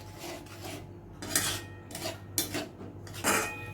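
A spoon mixes a peas curry in a pan with short rhythmic scrapes and knocks against the metal, close and fairly quiet, in a few quick strokes.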